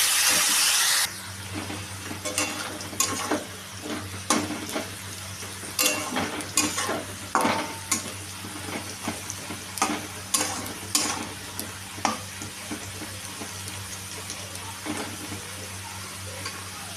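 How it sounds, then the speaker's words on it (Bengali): Potatoes and carrots stir-fried in oil with salt, an opening burst of bright sizzle giving way to a steady fry under a low hum, punctuated by repeated sharp spatula scrapes and knocks against the pan. "এটাকে আমি ভালো করে নাড়তে নাড়তে ভেজে নেব।"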